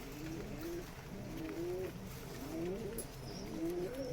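Pigeons of Rajshahi Giribaz and Pakistani breeds coo in soft, repeated rolling phrases about once a second, faint and close, over a low background hum with no talking.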